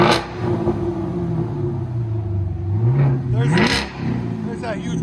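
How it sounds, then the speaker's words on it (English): A 2018 Chevy Camaro SS with a 6.2L V8 and Flowmaster Outlaw exhaust rumbles at a deep, loud idle, then revs up sharply and falls back, with people talking over it. "Let you guys hear all this. 2018 Chevy Camaro SS FLOWMASTER Outlaw."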